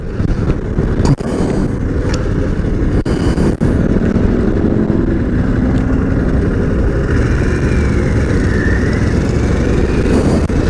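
Adventure motorcycle cruising in sixth gear on a 2022 bike, a loud continuous engine drone with heavy wind rush and occasional bumps, steady throughout.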